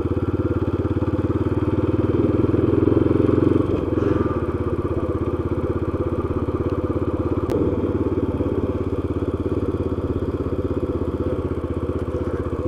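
A motorcycle engine putters steadily while riding, a constant mid-pitched drone with slight shifts in throttle and a brief clack partway through.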